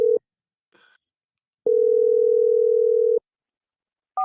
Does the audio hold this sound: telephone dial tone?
yes